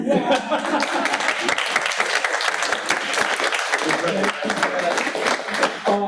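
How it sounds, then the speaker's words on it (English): An audience at a live event breaks into loud, sustained applause, dense clapping filling the room close by, with scattered voices and cheers mixed through the crowd noise. "Round of applause for Stephen for his work this weekend."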